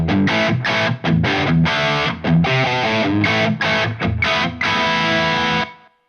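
Electric guitar played through an Empress ParaEQ Deluxe feeding a BB drive module, a loud overdriven riff of chopped chords and single-note runs ending on a long held chord that cuts off, with no talking.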